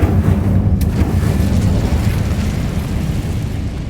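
Incendio fire spell cast in Hogwarts Legacy, a loud, steady roaring whoosh of flame with a low rumble that holds throughout and slowly eases off.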